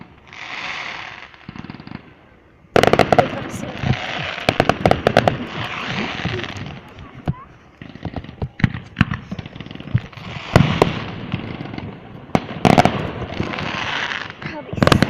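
Canada Day fireworks burst outdoors in a rapid, uneven series of sharp pops and crackles, some loud and close, over steady background noise with occasional voices.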